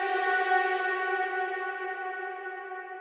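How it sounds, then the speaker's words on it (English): Sustained tone processed through a long reverb set fully wet with a big decay in Ableton Live, a smooth washed-out pad that rings evenly and fades very gradually, with no dry attack heard. "I want to turn that into like just a really long reverb."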